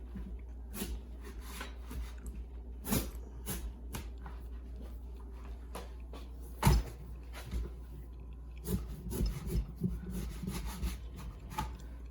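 Repeated scraping and sawing strokes as a blade works through a tough pumpkin stem, with irregular hammer thumps and cracks over a low steady hum.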